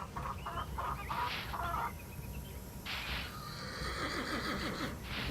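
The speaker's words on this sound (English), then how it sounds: "The crazy chicken." A chicken in the Nancy Drew ranch video game clucks in short bursts over faint background ambience, with a horse whinnying and hooves clip-clopping mixed in.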